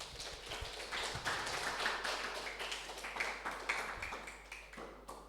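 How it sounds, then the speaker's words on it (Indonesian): Applause for the team at a teamwork lesson rises as quick, light clapping from a modest group, with a steady hum underneath. "Tepuk tangan untuk kalian semua"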